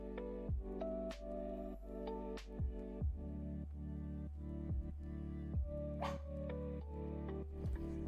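A dog barks in short, repeated outbursts, about one every half second to second, loud and close over a steady background hum, inside a room during a live-streamed stock-trading session.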